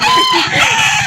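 A rooster's crow rings out close and loud at a chicken seller's farm in Lipa City, Batangas, one sustained call with faint voices underneath.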